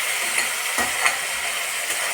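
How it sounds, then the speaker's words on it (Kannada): Onions and tempering ingredients deep-frying in hot oil for bele sambar, a steady close sizzle and hiss with faint stirring scrapes, no voices. "ಒಗ್ಗರಣೆಗೆ ಈರುಳ್ಳಿ ಇದು ಎಲ್ಲ ಹಾಕಿ ಫ್ರೈ ಮಾಡ್ಕೊತಾ ಇದ್ದೀನಿ"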